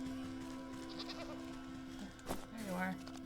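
A goat in a video game bleats once, a short wavering cry near the end, heard faintly behind a steady tonal background and a person talking.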